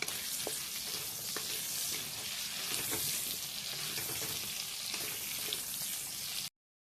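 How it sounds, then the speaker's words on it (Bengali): Pointed gourd and potatoes fry in rendered goat fat, giving a loud, constant crackling sizzle with occasional stirring scrapes, close up and with no talking, cutting off abruptly at the end. "পটলটা অনেকটা ভাজা হয়ে এসেছে।"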